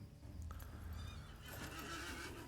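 A horse in the online game Lord of the Rings Online whinnies at night, a bright wavering neigh, then a burst of hoof clatter and movement, moderately close, no speech.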